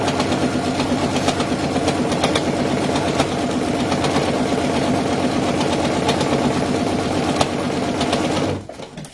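Sewing machine top-stitching the seams of a fabric bag, a steady, close, even mechanical whirr running without pause, then stopping abruptly near the end.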